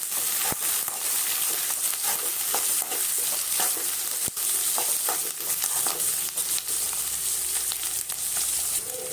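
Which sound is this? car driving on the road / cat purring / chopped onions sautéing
chopped onions sautéing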